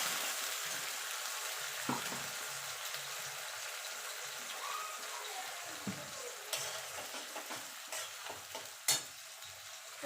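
Tomato, green chilli and ginger paste sautéing and being stirred in a pan, a steady soft sizzle with occasional spoon scrapes and clinks, no one talking.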